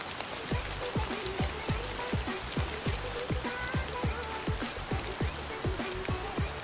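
Steady rain falls on a surface, a dense hiss with fast, regular drips and patters running throughout, fairly close and even in level.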